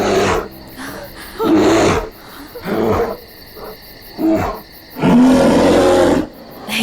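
A bear in a Hindi-dubbed action sci-fi film lets out several loud, deep roars and growls in separate bursts, close and forceful, with quieter gaps between them and no speech.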